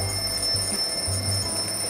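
A Welgo G3 alarm clock radio rings with a steady, high electronic tone, pulsing in short bursts over a faint hum.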